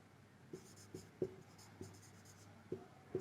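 Writing out a physics numerical solution on a board gives faint, irregular taps and short scratchy strokes, quiet and close, spaced about half a second apart.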